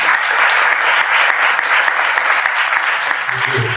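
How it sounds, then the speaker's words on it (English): Steady applause from a crowd, dense clapping that holds evenly throughout without a break. "It's a round of applause for Phase 2 for helping us with this event."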